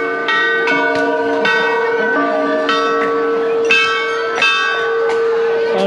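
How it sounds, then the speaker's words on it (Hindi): A large temple bell weighing three quintals rings at a crowded temple in Shivrampur, Chitrakoot, giving loud, close, repeated strikes roughly every half second to second, each with a long sustained metallic hum. "यहाँ पर बड़ा वाला घंटा आ गया है 3-3 क्विंटल का।"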